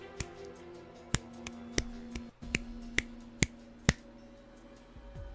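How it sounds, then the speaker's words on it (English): Several sharp finger snaps ring out at uneven intervals over a low steady background hum. "Snap my fingers right there."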